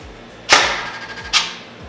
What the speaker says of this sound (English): push the trigger 5 times semi-quickly while the gun is on the safe, or the selector is put to safe